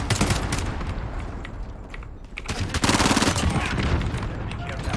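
Rapid shotgun blasts in the Call of Duty Warzone video game, a dense run of loud, close shots with a brief lull before another burst, with talk mixed in.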